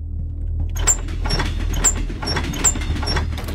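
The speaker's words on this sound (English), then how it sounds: "He's locked that door." Locked door in the video game Hello Neighbor being tried, a series of rattling clunks and knocks over a low steady hum, repeating irregularly for a few seconds.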